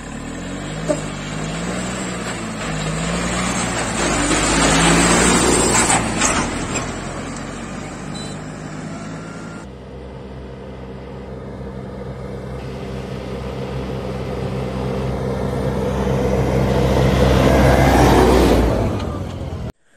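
John Deere and Ford 3600 tractors race, a loud diesel drone climbing in pitch through successive gear shifts, dropping off at each change and building again toward the end.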